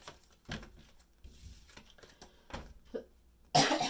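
A lingering cough after the flu, several short, quiet coughs and throat sounds spaced irregularly, close to the mic, ending with a louder burst.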